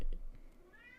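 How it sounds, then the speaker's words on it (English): A cat gives a single short meow, fairly faint, against a quiet room. "You hear my cat?"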